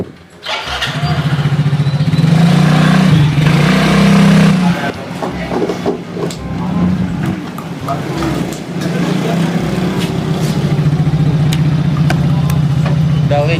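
A motorcycle engine is revved again and again at close range, a steady loud drone with surging throttle bursts, while people chat casually over it.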